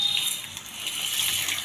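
Mustard and cumin seeds sizzle in hot oil in a pan with a soft, steady crackling hiss, close and fairly quiet, with no voice.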